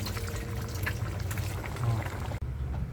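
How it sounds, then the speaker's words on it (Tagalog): Soft, continuous bubbling and simmering of a coconut-milk vegetable and shrimp stew in a pot, fairly quiet and close, with light popping textures throughout. "Kumukulo pa."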